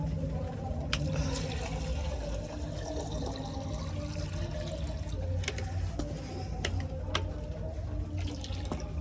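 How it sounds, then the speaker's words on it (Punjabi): Water runs steadily from a tap into a container, a continuous splashing rush with a few sharp clicks and knocks over it. "ਪਾਣੀ ਭਰ ਦਈਏ"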